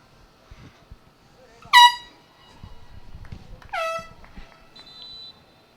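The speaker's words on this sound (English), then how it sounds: "Now we have an air horn duel going." Two loud air horn blasts from the crowd at a girls' high school regional playoff soccer match, the second answering the first, with faint crowd murmur and commentary voices underneath.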